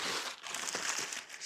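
Packing paper crumples and crinkles as it is pulled out of a tall box holding a motorcycle sissy bar, a dense close-up rustle lasting a moment.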